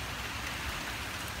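Heavy rain from Hurricane Harvey, by then a tropical storm, pouring down in a steady, even hiss that stays constant and moderately loud, with no voices.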